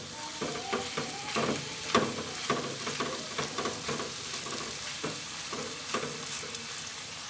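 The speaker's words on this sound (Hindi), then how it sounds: "टू टेबलस्पून वाइट तिल ऐड कर लेते हैं, मिक्स कर लेंगे।" Makhandi halwa with white sesame seeds being stirred in a pan, giving a steady run of scraping, sticky stirring strokes over a soft sizzle, close and moderately loud, with no talking.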